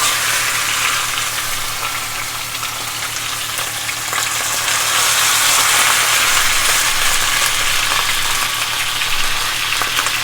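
Steaks sear in a hot cast iron pan, giving off a loud, steady sizzle and hiss that swells slightly midway and carries on without pause.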